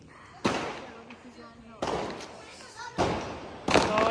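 Firecrackers burst during Diwali, four sharp loud cracks spaced about a second apart, each trailing into a short crackling decay, with faint voices between.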